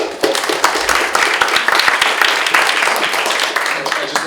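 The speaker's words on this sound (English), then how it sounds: "I just want you to applaud twice" Audience applause at a community leadership summit, a dense, steady wash of many hands clapping close by for about four seconds with no break.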